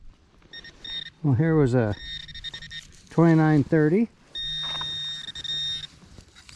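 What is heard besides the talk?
Minelab Equinox 800 metal detector beeping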